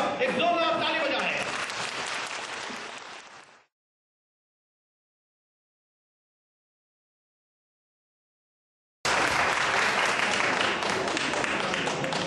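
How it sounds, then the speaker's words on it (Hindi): Loud applause for a daughter at a Christmas service in a camp in Bahrain, a dense crowd of clapping hands with voices mixed in, broken by a long stretch of silence before the clapping resumes just as strongly. "बेटी के लिए एक जोरदार ताली बजाएं"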